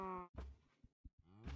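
A Minecraft cow moos in short blocky bursts, one call at the start and another at the end, with soft thumps between them.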